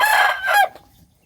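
A rooster crows once loudly and close, its harmonic call lasting over half a second before cutting off into near silence.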